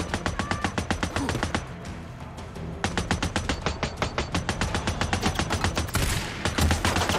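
Gunfire from the video game Days Gone: rapid bursts of automatic shots in fast, even strings, loud and close, with a short pause before firing resumes and continues to the end.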